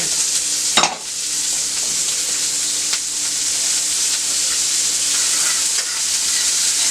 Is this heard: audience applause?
no